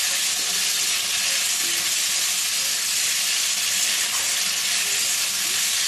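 Potatoes and onions frying in hot oil as green chili paste goes into the pan, a steady loud sizzle and hiss running unbroken throughout with no talk.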